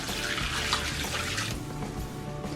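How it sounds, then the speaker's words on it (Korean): Fresh water poured over soaked godeulppaegi greens set in a colander, a steady close splashing and trickling rush that runs continuously and eases slightly after the midpoint. "그리고 다시 새 물을 부어서 3시간 동안 담가 줄게요."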